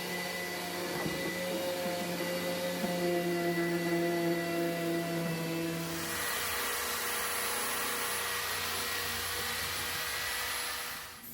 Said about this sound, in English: I've got a 240 grit sander on my random orbit sander, so we'll have a go now and take a little bit of the paint on